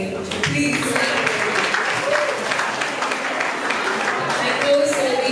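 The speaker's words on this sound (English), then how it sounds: "Please clap." Sustained applause from an audience at a school debate and science and maths quiz, steady and dense throughout with a few voices mixed into the clapping.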